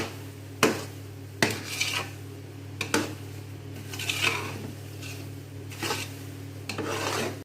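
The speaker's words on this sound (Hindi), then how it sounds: "जी तो इसके अंदर हमने खोपरे को मिक्स कर लिया है" A spoon scrapes and stirs grated coconut in a pan of suji halwa, giving rhythmic rasping strokes with sharp clinks against the metal over a steady low background hum.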